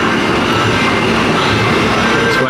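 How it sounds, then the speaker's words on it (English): Monorail train at Mega Mall Sharjah running over a shopping centre, a steady loud rumble of wheels and motor close by throughout, with no voices. "Worth it though for that monorail."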